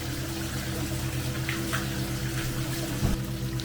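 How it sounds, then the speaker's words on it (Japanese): Water pours steadily at the Tsuru-no-yu waterfall bath of Nyuto Onsen in Akita, a continuous broadband rush and splash with a low steady hum beneath, moderately loud and unbroken, with no voices. "奥に見えるのは打たせ湯の滝の湯。"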